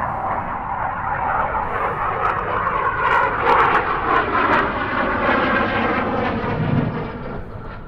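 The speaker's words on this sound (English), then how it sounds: "That was the sound of a Hawk T1 from RAF Leeming in North Yorkshire." A Hawk T1 jet trainer from RAF Leeming, North Yorkshire, roars steadily overhead, a loud sustained engine rush that swells to a peak midway and then eases slightly, with no voices.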